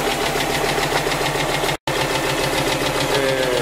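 A snow removal machine's engine runs close and loud at a steady, rhythmic chug, with one very brief dropout midway and then the same continuous drone.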